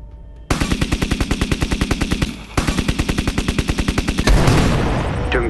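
Automatic gunfire in a shooting video game, a loud, rapid, evenly spaced machine-gun rattle in two long bursts, followed by heavier, denser firing near the end.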